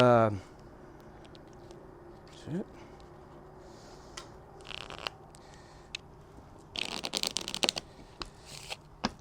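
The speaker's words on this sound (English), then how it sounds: "just give them just like that, just a straight riffle" Riffle shuffle of a deck of playing cards during a close-up magic performance, with a quick burst of card flutter near the end after mostly quiet room tone and small handling noises.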